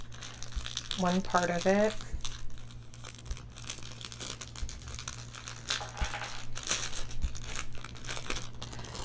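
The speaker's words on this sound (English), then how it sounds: "Didn't think there would be so much crinkling when I was showing you guys how to do a junk journal" Paper crinkles and rustles close by while a junk journal signature is assembled, with soft scattered crackles and light tapping; a voice briefly speaks near the start.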